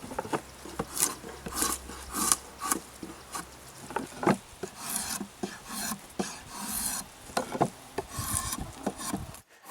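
A draw knife shaves green wood clamped in a shavehorse, making repeated rasping strokes at an uneven rhythm, each a short scraping pull with brief pauses between, close and clear with no speech.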